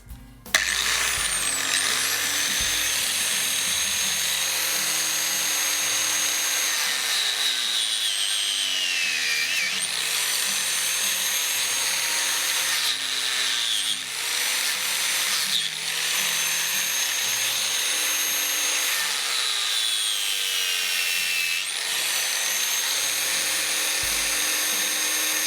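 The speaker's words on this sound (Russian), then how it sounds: "Делаю отверстие." Drilling through a car tire to make a swan craft, the drill whining loudly and steadily with repeated pitch rises and falls as it bites into the rubber, running almost without a break.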